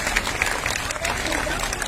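A crowd at an Anganwadi workers' strike rally in Delhi claps steadily and densely throughout, with a voice heard over the applause.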